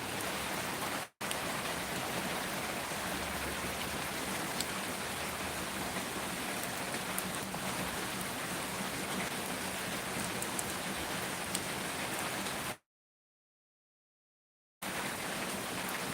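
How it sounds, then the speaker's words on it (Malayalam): Steady, dense heavy rain hisses without pause, cut briefly to silence near the start and again for a couple of seconds near the end. "നല്ല മഴയാണ് ഇവിടെ"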